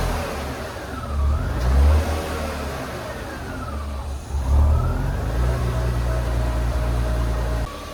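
A BMW E36 engine starts and idles, its revs rising twice in loud surges before settling into a steady running hum, with no one speaking.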